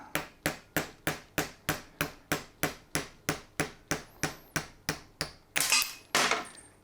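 A steady series of sharp hammer taps, about sixteen evenly spaced blows, close and distinct, ending in a brief burst of scraping noise, while fitting a minispool and gears in a garage.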